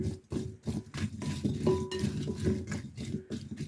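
Onions and potatoes being stirred in a pan, a string of close utensil scrapes and clinks against the metal with soft sizzling between strokes and no talk.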